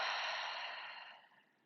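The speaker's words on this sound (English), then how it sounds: "And open mouth exhale." One long open-mouth exhale during yoga breathing, a soft airy rush heard close that fades out over about a second and a half.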